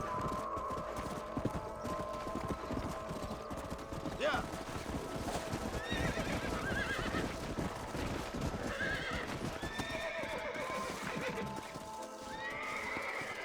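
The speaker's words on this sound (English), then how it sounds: "Aquí creo que conseguimos un caballo guapo." A horse in Red Dead Redemption neighs loudly, with clopping hooves and ambient game sound continuing under and after it.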